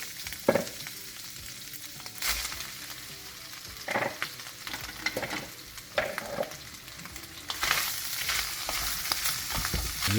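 Beef and cabbage being stir-fried and tossed together in a hot pan, with steady sizzling broken by several louder scraping stirs and clanks of the utensil against the pan.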